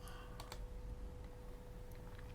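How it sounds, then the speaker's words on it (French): Typing on a computer keyboard while writing an email in the Roundcube webmail client, a run of soft plastic key clicks over a steady low hum. "Si je retourne maintenant dans le courriel et que j'écris un mail,"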